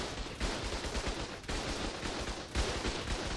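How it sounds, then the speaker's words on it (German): Explosions and gunfire rip through a base under attack in a video game, dense and loud with heavy blasts recurring about every second, near and continuous with no talk. "Oh, die sprengen schon wieder hinten."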